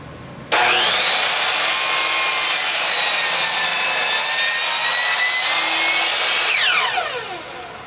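A power tool cuts through a wood piece for an R2-D2 rear logic display surround, starting abruptly and holding a loud, steady high-pitched whine for about six seconds before winding down alone.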